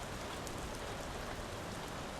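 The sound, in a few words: rain ambience in the video game Hozy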